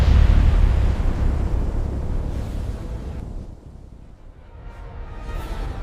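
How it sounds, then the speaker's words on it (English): An asteroid impact explosion rendered as a huge, deep roaring rumble, loudest at the start and slowly thinning and fading across the stretch, with no voices. "The explosion released more energy than billions of nuclear bombs."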